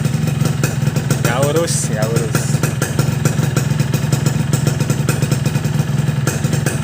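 A motorcycle fitted with a Boban Laser C33 aftermarket exhaust idles close by with a steady, rapid thumping beat, while someone speaks briefly over it.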